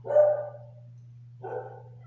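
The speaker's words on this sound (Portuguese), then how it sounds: "os cachorros no quintal" Two separate barks from a dog in a backyard, spaced over a second apart, over a low electrical hum.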